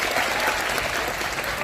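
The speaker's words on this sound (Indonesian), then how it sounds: "Kasih tepuk tangan dong." Dense applause from an audience at a public event in Jakarta, steady and loud throughout, a continuous wash of many hands clapping together.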